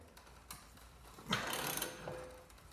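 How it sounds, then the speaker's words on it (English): A wrench tightening a ball joint press on a Jeep Wrangler TJ Dana 30 axle gives a few close, faint mechanical clicks and ratcheting scrapes, with one brief louder burst of metallic grinding in the middle. "Now all you got to do is start tightening this down."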